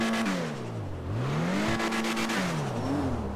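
The turbo-fitted Zion Classic in GTA 5 Online revs repeatedly, its engine pitch climbing, dropping and climbing again in loud, close pulls with turbo whine and no speech.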